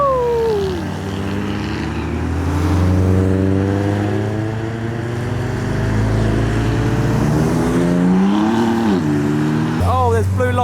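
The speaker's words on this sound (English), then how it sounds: "Turboed IS200, sounds so good." A turbocharged, modified Lexus IS200 accelerates past at a car meet, its engine note climbing through gears with a loud, steady drone and a rising whine near the end, with people talking faintly underneath.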